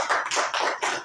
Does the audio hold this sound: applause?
yes